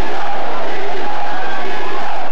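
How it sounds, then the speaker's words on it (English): A large, ecstatic crowd in the Philippines in 1983 chants and roars in welcome for Ninoy Aquino, a loud, sustained wall of massed voices heard on worn VHS news footage. "the ecstatic crowd, believing Aquino to be among them, chanted their favorite's name again and again in welcome"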